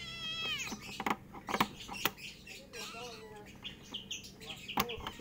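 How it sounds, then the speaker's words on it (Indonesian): A cat meows up close in a series of short, shrill cries, some sliding downward in pitch, mixed with sharp clicks and tapping from handling recycled materials nearby. "ada kucing"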